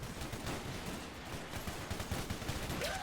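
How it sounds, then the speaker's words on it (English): In a World War II battle video game, an MG34 machine gun lays down covering fire: dense, continuous bursts blend into a roaring wash of battlefield gunfire, loud and unbroken throughout. "MG34 laying down, covering fire."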